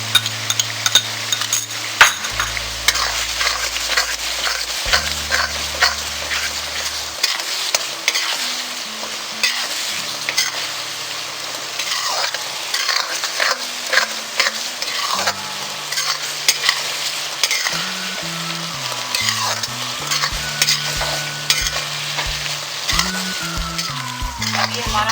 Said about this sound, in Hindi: ये हमारा मसाला अच्छे से भुन गया है